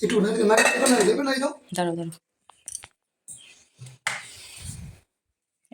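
A utensil scrapes and knocks against a pot while freshly cooked, steaming rice is stirred in a home kitchen, a few short clinks between a woman's speech.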